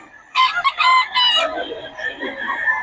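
A chicken crows close by in a short burst, followed by softer clucking sounds.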